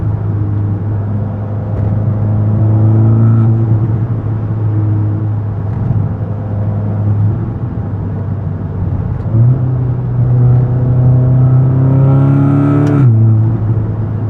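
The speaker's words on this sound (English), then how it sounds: "You also get some burbles from the exhaust." Interior drive in a 2017 Audi S3 fitted with a downpipe, its engine holding a loud steady drone that rises and falls through gears, with a climbing rev surge late on before the note cuts back.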